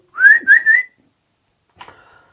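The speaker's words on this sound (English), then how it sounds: "Can you whistle?" A short three-note whistle, bright and close, sounds in a quiet pub room during a paranormal investigation, followed after a pause by a faint brief rustle.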